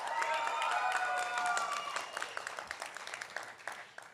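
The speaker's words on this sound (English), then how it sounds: "Clap right now, give a shout." An audience at a health sciences university white coat ceremony claps and cheers loudly, the dense applause thinning into scattered individual claps toward the end.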